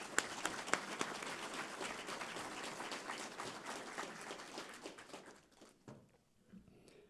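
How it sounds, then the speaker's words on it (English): Audience applause at a spring faculty and staff assembly: many hands clapping in a dense, steady burst that thins out and fades toward the end, heard fairly faint and distant. "Please give them a round of applause."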